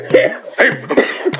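Repeated coughing by a man in a Bengali audio drama, three or four harsh, close, loud coughs in quick succession with a wheezy catch between them.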